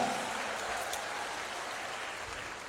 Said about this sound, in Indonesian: Tepuk tangan yang paling meriah untuk Sekolah Vokasi UGM dan juga UGM yang luar biasa